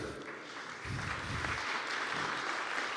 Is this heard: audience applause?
yes